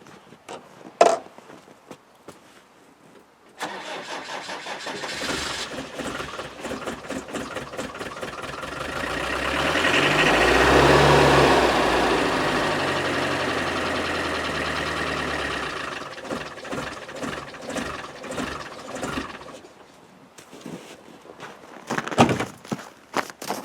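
A Land Rover 300Tdi diesel engine with a fuel supply fault runs close by, its low uneven rumble swelling into a louder mid-clip surge before settling back, with scattered knocks and handling noises at the start and end.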